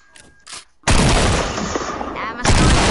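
A single sharp gunshot from a flick shot in a shooter video game bursts in loudly after brief quiet and is followed by another blast, with a player talking around it.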